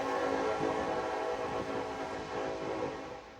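A train passing with its horn sounding, a loud sustained multi-tone blare over rumbling rail noise that fades slightly toward the end.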